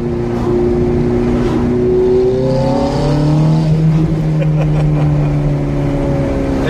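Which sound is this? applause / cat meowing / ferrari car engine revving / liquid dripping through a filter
ferrari car engine revving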